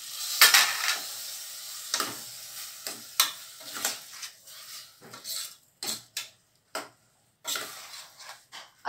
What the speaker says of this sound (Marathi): ही ग्रीन पेस्ट आहे ही सगळी त्या टाकून घेणार आहे